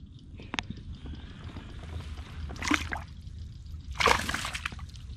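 A fish caught on a topwater frog lure is released back into the water, making two separate splashy bursts a little over a second apart against a low, steady outdoor background.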